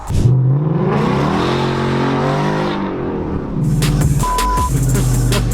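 A Ford Mustang V8 revs hard and close, its engine note climbing and falling, then settles back before a second burst of revving.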